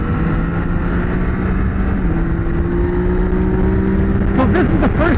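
A Yamaha Tracer 900 GT motorcycle engine drones steadily while riding, a loud, continuous hum with a slight pitch shift midway and some wind buffeting near the end.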